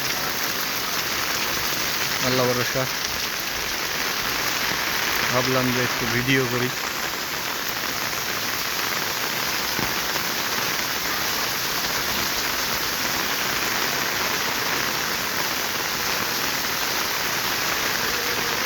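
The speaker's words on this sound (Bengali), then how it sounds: "প্রচুর বৃষ্টিপাত, সারাদিন বৃষ্টির মধ্যে বের হয়েছি" Heavy, torrential rain pours steadily and loudly at close range on a street with pooling water, a continuous dense hiss, while someone talks briefly over it.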